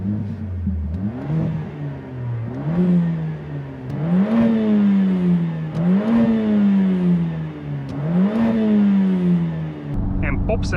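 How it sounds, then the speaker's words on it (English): A Mercedes-AMG A45S with its 2.0-litre M139 engine revs repeatedly, pitch climbing and falling in about four rising surges with a loud, close exhaust note; brief sharp cracks hint at exhaust pops. "The A45S engine is loud, it has pops and bangs, it screams"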